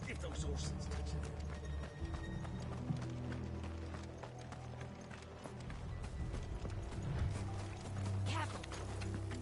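Horses gallop in Final Fantasy XVI, with steady clip-clopping hooves running throughout amid busy game music and effects, voices talking over them.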